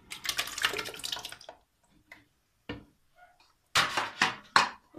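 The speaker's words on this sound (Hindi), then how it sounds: "सबसे पहले जग के अंदर हम ऐड करेंगे दही" Thick yogurt plops and slides into a jug for a banana date lassi, a few wet, gloopy dollops and short spoon scrapes close by, with brief pauses between them.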